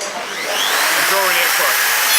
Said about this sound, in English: it's as simple as starting the router